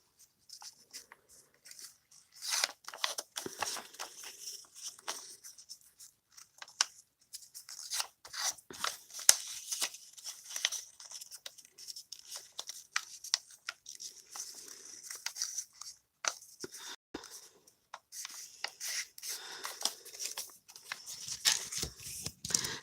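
Scissors cutting paper pieces to make journal tags, soft rasping snips and paper rustles close by, coming in irregular bursts with short pauses and no speech.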